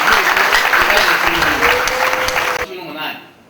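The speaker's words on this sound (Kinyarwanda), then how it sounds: "Ndumva nifuza ngo abari muri ruteraniro dukomere Imana amashyi kuko yarinze Jacqueline" A wedding congregation applauds God during the ceremony for Jacqueline, a steady, full round of clapping with voices and a sung or spoken line underneath, dropping off abruptly near the end.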